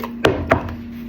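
Pancake batter is mixed in a bowl, with two quick close knocks of the utensil against the bowl in about a second, then a faint low hum.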